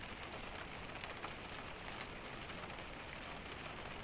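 Steady, dense rainfall patters on a surface, a continuous even hiss with no other sounds.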